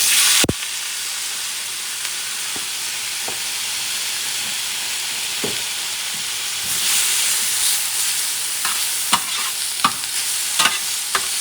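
Lima beans, green beans and artichokes sizzle and fry in a paella pan over medium-high heat, a steady broadband crackle that grows busier partway through, with scattered stirring scrapes and clicks and no talk.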